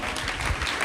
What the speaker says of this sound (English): You should be clapping. You should be happy right now.